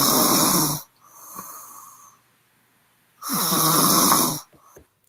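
Another woman's heavy snoring: two loud, harsh inhaled snores, each followed by a softer wheezy exhale, close and steady with no talking.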